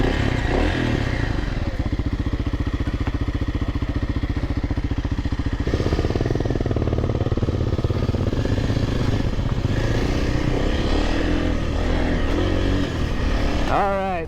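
Kawasaki KLX300R dirt bike engine droning loudly and continuously on a test ride, with steady revving, shifts in pitch and some clattering, heard close without talk.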